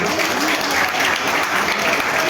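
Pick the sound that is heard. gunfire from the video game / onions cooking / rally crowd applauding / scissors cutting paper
rally crowd applauding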